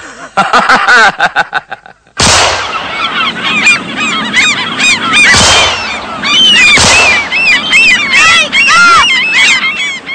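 A flock of geese honks loudly and continuously at close range, many overlapping harsh calls after a sharp burst of rapid noises at the start, with a few sudden loud cracks cutting through the din.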